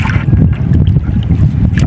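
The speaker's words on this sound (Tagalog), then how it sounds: "Masyadong mahangin mga lods, kung narinig yung hangin." Strong, cold amihan wind buffets the microphone in a steady low roar with gusting surges throughout, loud and continuous with no talk over it.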